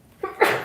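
A single short sneeze, a quick intake followed by an abrupt burst, close and fairly loud.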